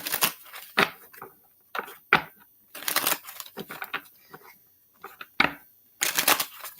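Tarot cards are shuffled by hand in repeated quick riffling bursts, close and crisp, separated by short pauses, with no talking.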